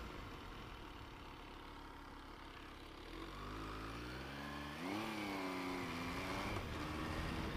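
A mid-size MV Agusta roadster motorcycle engine revving up from idle, pitch rising in a smooth climb then surging again, close and loud with a steady engine drone throughout.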